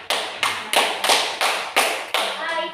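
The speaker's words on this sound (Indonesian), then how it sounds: "Ya, beri tepuk tangan dulu." A classroom group claps together in unison, about seven sharp, evenly spaced beats in a steady rhythm, close and fairly loud.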